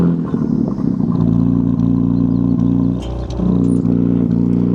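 Twin-turbo Dodge Charger Scat Pack engine firing up by remote start, a loud close crank and catch settling into a steady, rumbling idle with a brief dip partway through.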